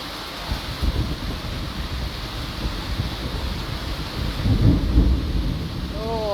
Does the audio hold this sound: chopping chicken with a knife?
no